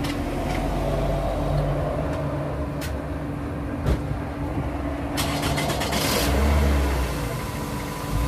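A repaired car's engine runs steadily at close range, its low drone broken by a few clicks and knocks and a brief swell as it revs near the end.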